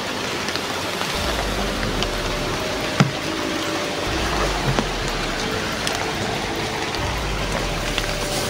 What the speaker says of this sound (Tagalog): malakas pa yung ulan doon banda mga kaidol